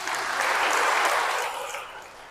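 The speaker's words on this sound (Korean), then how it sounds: "남자들에서 박수 한번 쳐주세요" A church congregation gives a short burst of applause, a dense patter of many hands clapping that swells, holds briefly and then tapers off.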